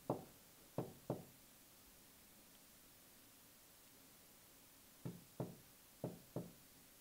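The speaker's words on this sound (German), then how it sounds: "Das hat geklopft. Das hat echt leicht leise geklopft." Seven sharp knocks during a Ouija board session, faint against a quiet hiss: three in quick succession at the start, then a long pause, then four more in two pairs.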